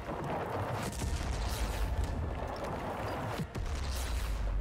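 Two explosions in the action game Dauntless, heard as loud, continuous booming blasts with a brief dip between them and no talking.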